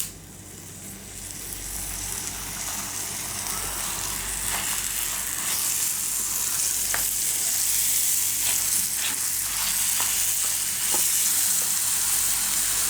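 Curry leaves crackle and sizzle in hot oil for a chicken curry cooked in a pressure cooker, a steady close frying hiss with scattered sharp pops, rising after the first second and holding loud to the end.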